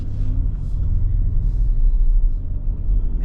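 The V6 engine of a 2026 Nissan Armada runs smoothly at a steady idle or light cruise, a low continuous rumble heard from inside the cabin with no rise in revs.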